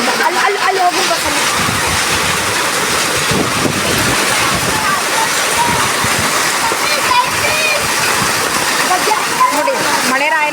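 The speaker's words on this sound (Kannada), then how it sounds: "ಅಷ್ಟೊಂದು ರಭಸವಾಗಿ ಈ ಆಲಿಕಲ್ಲು ಮಳೆ ಬೀಳ್ತಾ ಇದೆ." Heavy hailstorm rain pours down hard in Dharwad, a loud, dense, unbroken roar of falling water and hail that runs through the whole clip.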